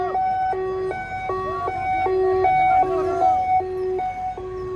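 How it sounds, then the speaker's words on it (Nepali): A two-tone ambulance siren wails steadily back and forth in a regular, loud cycle as it pushes through a dense crowd gathered to welcome the king, with crowd murmur underneath. "एम्बुलेन्स आयो एम्बुलेन्स"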